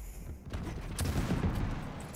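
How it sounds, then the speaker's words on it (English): Shotgun blasts in a Quake Champions match sound as a rapid cluster of sharp gunfire bursts, fairly faint and mixed in game noise, with one distinct crack near the middle. "they shot with a shotgun"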